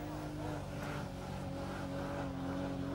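A car doing a smoky burnout at the Summernats car festival, its engine holding a loud, steady high-revving drone with tyre squeal, continuous and close throughout.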